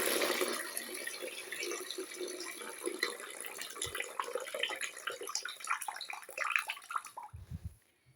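Cloudy rice-washing water poured into a bucket, a steady broad splashing stream running for about seven seconds before cutting off abruptly, with a few soft knocks at the end.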